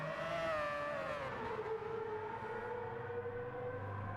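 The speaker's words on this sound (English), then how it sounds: "We're going to listen to these absolutely crazy sounding cars as they screech past." A Mazda 787B race car in a racing video game wails past with a high, siren-like rotary engine note that sweeps downward as it goes by, loud and steady, then fades under a low rumble, with no talk.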